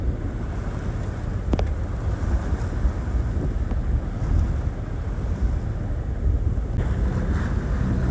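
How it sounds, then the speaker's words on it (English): Sailboat motor sailing among islands, with a steady engine drone, wind buffeting the microphone and waves washing against the hull, continuous and fairly loud with no talk. "We're still motor sailing, but it's coming along beautifully now."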